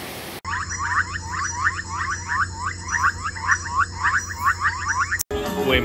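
Red frogs on an island in Bocas del Toro calling in a steady run of quick chirping croaks, close and fairly loud over a low background hum, with no talking.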